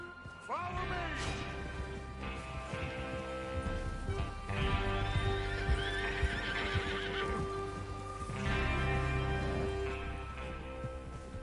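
Horses in the Red Dead video game neigh and whinny while hooves clip-clop steadily, close by, with rain falling and a voice talking over the scene.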